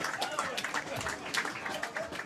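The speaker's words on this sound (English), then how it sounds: "The Bury lads making their way off the pitch, and to rapturous applause as well" Scattered applause from spectators at an amateur football match as the Bury players walk off the pitch after a 2-1 win, fairly faint, distant clapping with uneven bursts and a commentator's voice over it.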